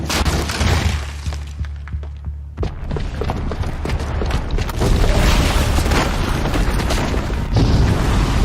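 A bomb rigged with a booby trap goes off in a video game cutscene, a deep booming blast with shattering debris that stays loud and rumbling through the whole stretch, swelling again near the end.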